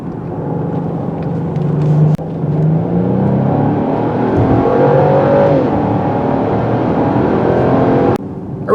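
A 2022 Genesis GV70 SUV's turbo engine accelerates in a steady, loud drone heard from inside the cabin, its pitch rising through the gears, with a brief dip near the two-second mark and another close to eight seconds.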